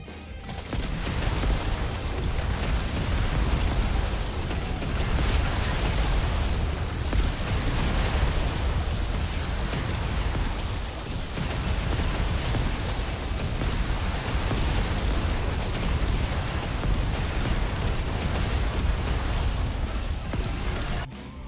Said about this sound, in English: Bomb strike, okay.